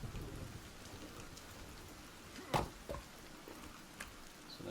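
Rain falls steadily in the survival game Sons Of The Forest, a soft, even hiss with a few sharper splashes or thuds standing out briefly, no voices.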